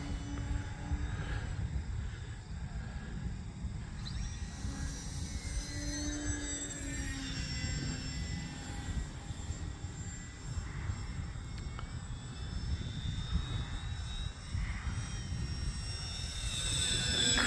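An RC Yak 55 model airplane flies a knife edge on full rudder into strong wind, its small engine buzzing and whining with shifting pitch against a steady rumble of wind on the microphone.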